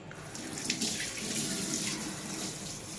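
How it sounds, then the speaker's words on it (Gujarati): Tap water runs steadily into a kitchen sink while pointed gourds are washed, a soft, even splashing gush throughout with a few brief louder splashes and no voices. "પરવળ છે બધા ધોઈ મૂકી દઉં"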